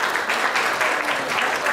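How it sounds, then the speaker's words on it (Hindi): A stage audience at a film poster reveal event breaks into loud, dense clapping that stays even and sustained for the whole short stretch. "गीता जी के पिताश्री के लिए जोरदार तालियां हो जाए।"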